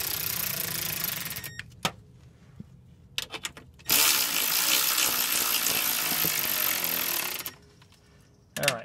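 Sharp ratchet clicks in short bursts from a torque wrench tightening the transmission pan bolts on a GM 4T40E/4T45E automatic transmission, followed by a longer, steady run of mechanical rasping, fairly close and with no talk.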